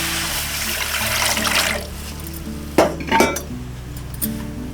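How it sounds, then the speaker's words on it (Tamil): A tumbler of water is poured into a hot kadai while red flattened rice payasam is being made, giving a loud rushing hiss for about two seconds, followed by a few sharp metallic clinks of utensils. "இப்போ கடாயை சூடானோடனே 1 டம்ளர் தண்ணி,"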